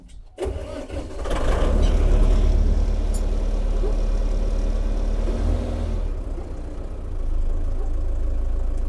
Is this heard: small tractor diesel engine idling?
yes